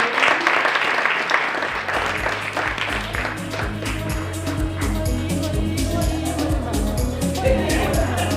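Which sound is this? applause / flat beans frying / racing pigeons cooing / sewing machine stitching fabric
applause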